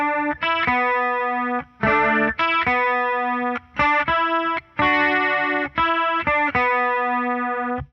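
Distorted electric guitar plays the verse part from an easy tab book, loud chugging chords in short bursts separated by brief gaps, alone with no talk.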